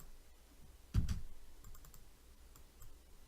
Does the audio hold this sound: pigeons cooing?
no